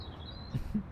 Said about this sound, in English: I hear birds.